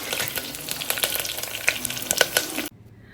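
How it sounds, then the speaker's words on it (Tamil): Mustard seeds, chana dal, onion, garlic and curry leaves temper in hot oil, a loud close sizzle dotted with rapid crackling pops that stops suddenly near the end. "எண்ணெய் ஊற்றி கடுகு, கடலைப்பருப்பு, அதுக்கப்புறம் வெங்காயம், 2 பூண்டு, கருவேப்பிலை போட்டு தாளித்து கொடுத்துடலாம்."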